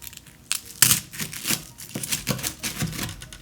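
A knife cuts into a BLT sandwich up close: crunchy crackles and crisp tearing of toasted bread and lettuce, with a sharp crunch early on and uneven, loud bursts as the blade works through.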